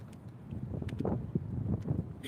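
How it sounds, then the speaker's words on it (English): Strong wind buffets an outdoor city street, a low, gusty rumble with rising and falling bursts that stays fairly loud throughout. "It is super, super windy though."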